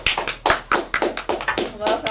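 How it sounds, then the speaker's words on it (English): An audience claps to welcome a guest onto a stage, a quick run of distinct loud hand claps in an uneven rhythm, close, with some voices mixed in. "Clap it over Sharnee, y'all."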